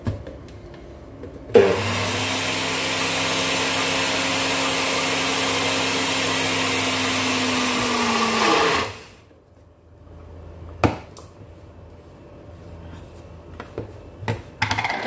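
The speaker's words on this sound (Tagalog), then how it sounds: "Takpan natin at i-blend ulit." A blender whirs loud and steady for about seven seconds, pureeing calamansi and lemon with the lid on, then cuts off, leaving faint clinks and handling noises.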